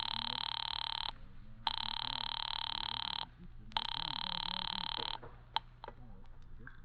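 An old-style telephone bell rings in long bursts with short pauses between, fairly loud, followed by a couple of brief clicks.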